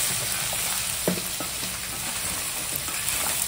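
Raw tripe (boti) fries in a hot pan with turmeric and chilli powder, giving a continuous dense sizzle close up, with a few soft stirring knocks and no talk.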